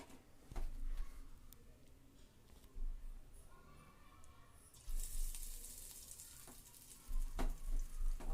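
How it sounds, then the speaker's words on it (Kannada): Chicken kebab pieces dropped into hot oil for frying, bursts of sizzling that swell and fade in several waves, with clatters and bubbling between them, close by. "ಎಣ್ಣೆ ಕಾದಾಗಿದೆ. ಈಗ ನಾನು ಸ್ವಲ್ಪನೇ ಕಬಾಬ್ ಹಾಕ್ತೀನಿ."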